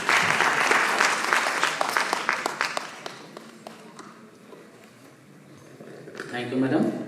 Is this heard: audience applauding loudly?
yes